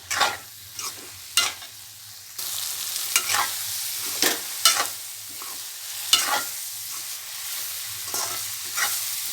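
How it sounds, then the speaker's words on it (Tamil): Raw banana chops stirred and frying in a pan over high heat, with a steady sizzle beneath repeated scraping strokes of a spoon, close and clear with no voices. "இப்போ ஹையில் வச்சு ஒரு கிளறு கிளறிட்டு நம்ம ஆஃப் பண்ணிடலாம்"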